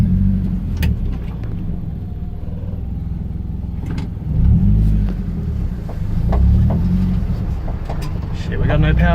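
A car with no power steering pulls away, its engine rumbling low and swelling as it picks up speed, with loud excited voices over the top throughout.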